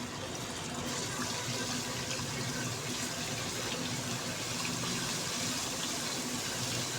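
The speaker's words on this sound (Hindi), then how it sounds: "ये देखिए लहसुन हमारा जो है फ्राई होना शुरू हो चुका है।" Garlic and ginger paste frying in a pan for an aloo baingan curry, giving a steady, dense sizzle with a broad hiss that runs without a break for the whole stretch and has no talking.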